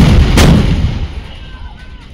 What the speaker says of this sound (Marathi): The Bofors and Dhanush gun system will now fire a burst of 3 rounds each